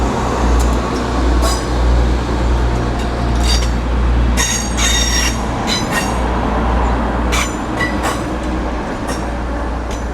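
Two coupled Class 185 diesel units pull out of Doncaster station, a low steady rumble under repeated metallic wheel squeals and clinks, with no one talking.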